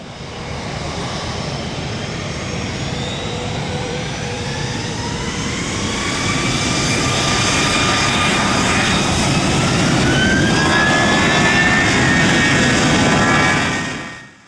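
Jet engines of a Spirit Airlines Airbus A321neo roar steadily and loudly from inside the cabin, a broad continuous rumble with rising whine tones that holds for the whole stretch before fading out at the end.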